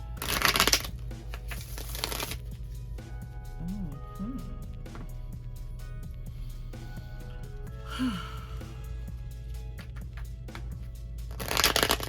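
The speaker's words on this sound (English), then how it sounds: "So I'm going to go ahead and shuffle." Tarot cards being shuffled by hand in bursts of rapid riffling and flicking, loudest at the start, again around two seconds and at the very end, with quieter handling and faint breaths in between.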